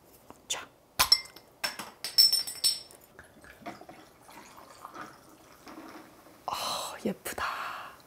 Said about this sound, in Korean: 일단 레드 칵테일부터 따고 갈게요. 이거는 병 따개로 따야 되더라고요.